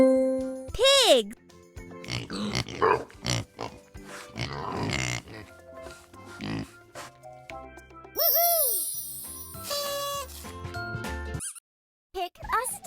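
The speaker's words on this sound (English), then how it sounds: "Pig!" Pig oinks from a children's animal jigsaw puzzle sound effect, short snorting grunts mixed with jingly chimes and cheerful talk over them.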